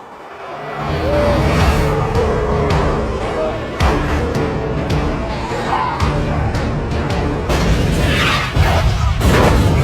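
A tanker truck blows up in a zombie film, giving a loud, sustained roar of explosion with repeated crashing booms and rumbling debris filling the scene.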